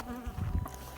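Angry honeybees buzzing during a bee removal, a dense, steady droning hum of many insects close by with a wavering pitch, fairly quiet overall and with no talk.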